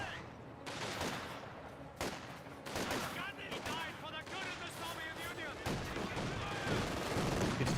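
Gunfire and explosions in the World War II strategy game Company of Heroes 2, with dense bursts of shots and booms from a match, mixed with game voices and commentary.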